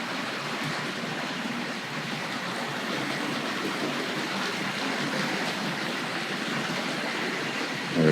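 A Tri-ang R.53 Princess Elizabeth model locomotive pulling R.228 Pullman coaches runs along its track with a steady, even rolling whir and rattle, close and continuous, ending in a brief bump.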